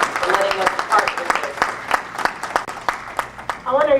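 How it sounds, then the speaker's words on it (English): A seminar audience claps in a round of applause, brisk overlapping hand claps with talk over the top and a voice coming in at the close. "So let's give her a round of applause."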